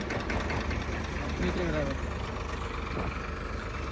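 A tractor engine idles with a steady low rumble throughout, while people talk nearby over it.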